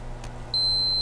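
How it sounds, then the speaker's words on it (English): A multimeter in continuity mode gives a clean, high beep that starts abruptly and holds steadily to the end over a faint low hum. "That's the multimeter as a conduction meter. And if it makes a connection, it beeps."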